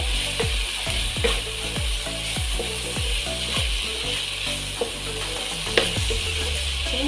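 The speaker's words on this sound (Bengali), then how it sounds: "কাশ্মীরি লঙ্কা গুঁড়ো, এই সবগুলো আমি একসাথে দিয়ে দেবো। দিয়ে ভালো করে এটাকে আমি কষে নেব।" Ground spices with Kashmiri chili powder and turmeric sautéing in a pan for chole masala, a constant sizzle broken by regular sharp scrapes and knocks of a spoon stirring against the pan, with no talking.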